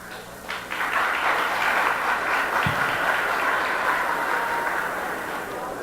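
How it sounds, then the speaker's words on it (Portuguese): Audience clapping at a 1992 municipal election debate in Santa Rosa de Viterbo, Brazil, rising into a sustained, fairly loud wash of applause with some murmuring voices underneath. "Só com palmas, então."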